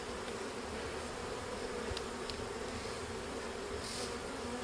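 Honeybees buzz around an open beehive brood frame, a steady, dense hum from a close swarm, continuous and fairly faint, with no talking.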